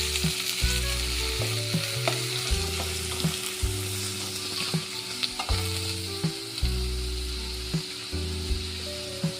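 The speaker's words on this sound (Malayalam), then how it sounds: "നന്നായിട്ട് ഇളക്കി കൊടുക്കുക." Green chillies sliced into rounds and curry leaves sizzle steadily in an oiled pan for lime pickle, with repeated scraping stirs of a spoon against the pan, close and clear, no voices.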